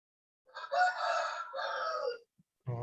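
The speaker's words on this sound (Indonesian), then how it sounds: "Oh, ada ayam jawab." A rooster crows once, loud and close, a long drawn-out call with a brief break in the middle, then a short burst of another sound right at the end.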